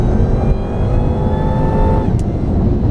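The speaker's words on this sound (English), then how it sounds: "Whoa, this engine is extremely powerful." Hennessey HPE750 Mustang V8 accelerating hard on a race track, loud continuous engine roar with rising harmonic tones as revs climb, heard close from inside the car with no talking.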